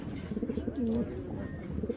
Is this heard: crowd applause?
no